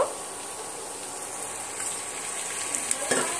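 Marinated chicken for chicken kasa hits a hot pan and fries with a steady, close, bright hiss that swells slightly toward the end, with a few small crackles and pops.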